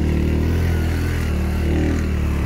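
A motorcycle engine runs steadily nearby, a loud, continuous low hum with rough mechanical clatter and no voices over it.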